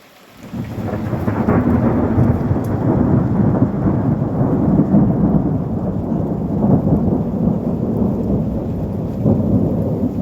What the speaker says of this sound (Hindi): बादलों के गरजने की आवाज़ और बारिश की बौछार देखिए आप